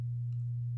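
A steady 100 hertz test tone from a Spatial Audio M2 Turbo SE open baffle speaker during an impedance sweep hums evenly and alone for the whole short stretch.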